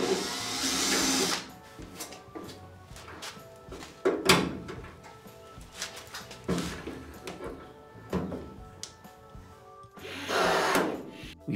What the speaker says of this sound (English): But we first need to drill.